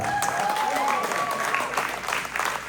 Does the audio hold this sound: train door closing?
no